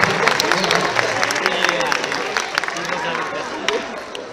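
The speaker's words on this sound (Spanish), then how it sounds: "Aplauso para Andrés" Audience applause and cheering at an anime expo stage event, a dense wash of crowd clapping with chatter and babble, steady and fairly loud throughout, without clear speech over it.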